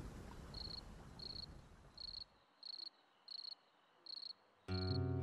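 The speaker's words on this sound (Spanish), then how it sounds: "¿Escuchaste al grillo?" A cricket chirps in short, evenly spaced bursts, about seven trills in a row, clear and alone against a quiet night background. A brief tonal sound enters at the very end.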